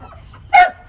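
A dog kept to guard native country chickens against mongooses gives one short, close bark over quiet background.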